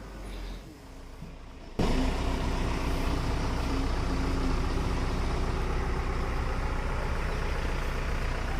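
A homemade aircraft fitted with a Pulsar motorcycle engine starts abruptly and settles into a loud, steady running drone close by.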